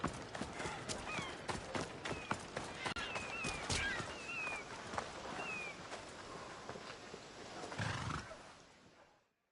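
In a PlayStation 4 video game, a horse whinnies and its hooves clip-clop in a quick galloping rhythm, fairly close and loud, before the sound fades out at the end.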